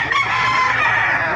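Chickens at a poultry market in Baliuag, Bulacan, crowing and clucking loudly and close, a dense continuous chorus of fowl with no talk.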